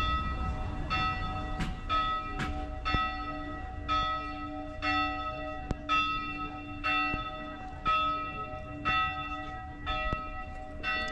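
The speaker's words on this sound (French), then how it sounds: "Nous avons droit à un concert de cloches." Church bells peal in a steady, repeated rhythm near the Canal du Loup, about a dozen evenly spaced strikes with long ringing overtones, moderately distant and heard without talk.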